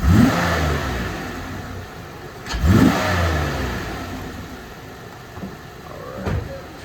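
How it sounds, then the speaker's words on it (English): Car engine in a fuel systems lab, revved twice in short throttle bursts that rise and fall, then settling to an idle with a smaller third blip, heard up close. "give it some gas, and we'll see how this pattern changes"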